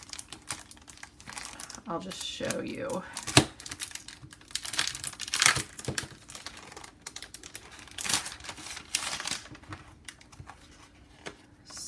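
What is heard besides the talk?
handling half sheet planner paper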